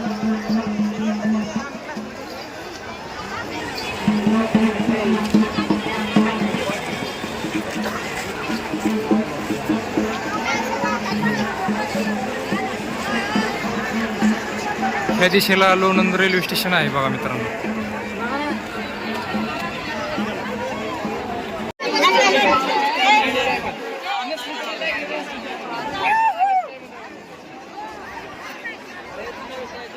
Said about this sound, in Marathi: लोणंद नगरीमध्ये भाविकांची माऊलींच्या दर्शनासाठी रेकॉर्ड ब्रेक गर्दी